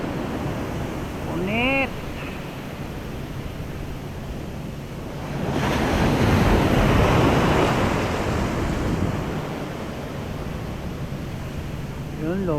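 Strong ocean waves washing onto a shore where someone is fishing, a steady rushing roar that swells into a louder surge midway, with wind buffeting the microphone and a brief word spoken.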